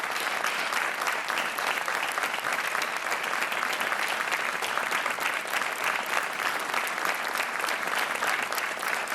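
A studio audience on a Portuguese TV quiz show breaks into dense, sustained applause, loud and even for the whole stretch, with no speech over it.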